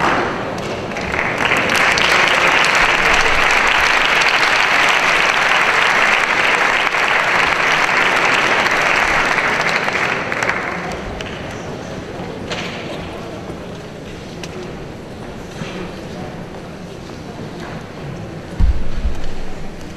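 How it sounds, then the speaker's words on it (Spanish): An audience at a flamenco singing contest applauds loudly and steadily for about ten seconds, then the clapping fades to scattered claps and murmuring room noise. "para los cuales pido un fuerte aplauso"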